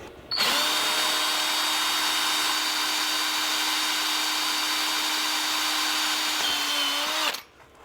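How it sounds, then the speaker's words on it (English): A power drill bores holes through a car's registration number plate with a steady, loud, continuous whine that runs unbroken for about seven seconds, dipping briefly near the end before stopping abruptly. "I'm not putting any real weight on this, fellas, I'm letting the drill do the work."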